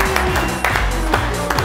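Studio audience at a German talk show applauds, a short, loud burst of clapping and crowd noise under music for under two seconds.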